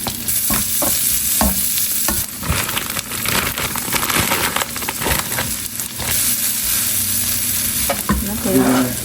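Onion frying in a pan with mushroom seasoning and white pepper powder, a steady loud sizzle broken by repeated scraping and stirring strokes of a utensil throughout, no voices.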